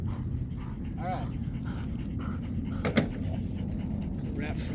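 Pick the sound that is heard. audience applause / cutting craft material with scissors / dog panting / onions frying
dog panting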